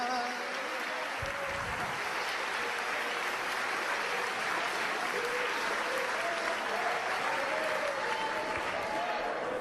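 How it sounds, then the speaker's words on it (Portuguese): Church congregation applauding during worship, a dense sustained wash of clapping that fills the whole stretch at steady level, with voices mixed faintly into the crowd noise. "Agora você pode aplaudir a Deus com a força da sua alma."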